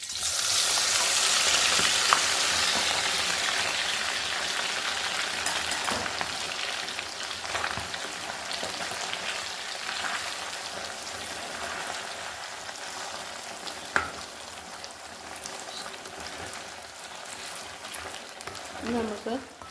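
Beef pieces frying in hot sesame oil in a pan for Kerala-style beef pickle, a steady broadband sizzle that runs the whole time, loudest at first and easing slightly, with a few sharp pops and stirring clicks.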